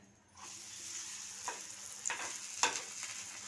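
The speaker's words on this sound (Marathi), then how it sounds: "आणि परत एखाद मिनिट चांगलं भाजून घ्यायचं तुपावरती" A chapati sandwich frying in ghee in a pan, giving a soft, steady sizzle up close, broken by a few light scrapes and taps of a spatula as it is turned and pressed, with no talking.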